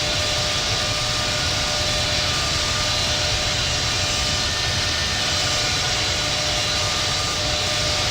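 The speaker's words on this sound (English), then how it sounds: "Turkish 44 Heavy is taking off runway 25 right" A Turkish Airlines heavy airliner taking off from Los Angeles in the Infinite Flight flight simulator, a loud, constant jet engine roar with a steady whine that holds at full power throughout.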